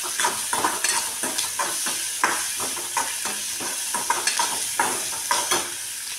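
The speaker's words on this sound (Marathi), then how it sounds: "आणि ह्याला पण छान असं परतून घ्यायचं" Tomatoes sautéing in a pan make a loud, continuous sizzle, punctuated by a regular rhythm of spatula scrapes and taps against the pan.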